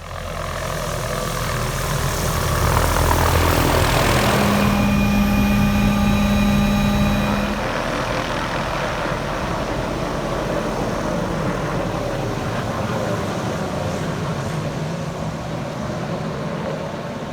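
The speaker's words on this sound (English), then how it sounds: "Can't wait, chopper should be here shortly." A helicopter arriving at a backcountry hunting camp in New Zealand drones loudly and continuously, with a steady rotor roar and a rising whine partway through, no voices heard.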